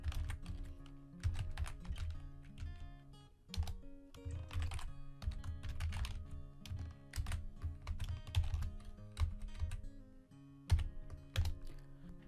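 Code being typed on a computer keyboard: steady, rapid clatter of keystrokes running continuously throughout, fairly close and clear, with no talking.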